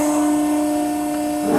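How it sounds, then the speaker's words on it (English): Hydraulic pumps on an Ercolina tube bender run with a steady mechanical drone and a strong sustained whine that stays even and close throughout the short stretch. "So right now I'm going to turn the pumps on."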